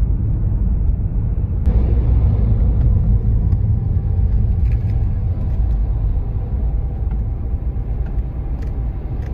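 Large trucks roll through the narrow streets of a small French village, giving a steady, loud engine rumble and road noise that carries on throughout with no talking.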